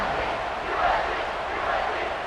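Steady crowd roar in a College Football 26 stadium after an Oklahoma vs South Carolina touchdown, a dense, even wash of cheering with no distinct voices.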